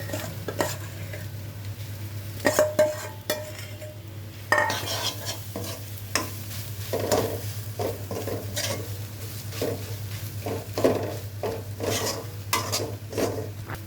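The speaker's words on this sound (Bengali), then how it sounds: "এবার ম্যাশ করে রাখা আলুগুলো দিয়ে দিচ্ছি," Mashed potatoes stirred and fried in a pan with onion and spices for an aloo paratha filling: a soft sizzle under repeated scraping and clinks of a utensil against the pan, with a low steady hum in the background.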